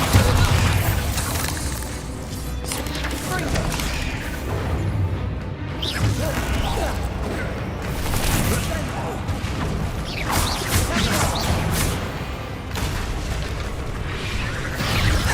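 Bombarda spell blasts in Hogwarts Legacy, with dense, booming explosions and crashes rolling one after another over a continuous game soundscape, mixed with voices.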